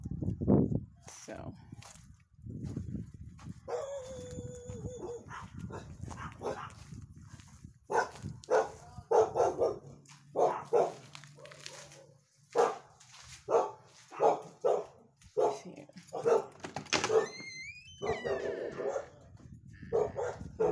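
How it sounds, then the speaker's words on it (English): Several dogs bark and yip repeatedly from a neighbouring yard beside a townhouse, the barks coming in uneven bursts with some whimpering while someone talks over them. "You hear those dogs next door?"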